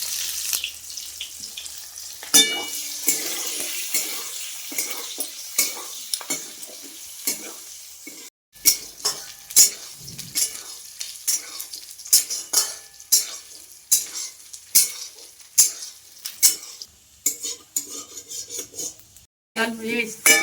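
Onions fry in a pan with salt and turmeric, a soft sizzle under repeated scraping strokes of a utensil that come in an irregular rhythm, close and clear with little talk.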